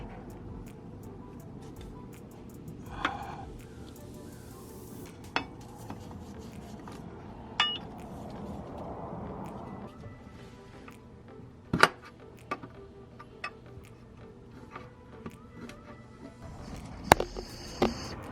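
Metal pry bar scraping and clanking against the transmission pan of a 2007 Mazda 3 under a car, with sharp intermittent metallic clinks and knocks spread over a low steady background, a couple of louder taps standing out.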